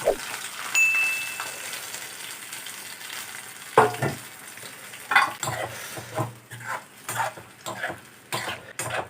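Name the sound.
stirring kandanakaya curry with bay leaf in a pan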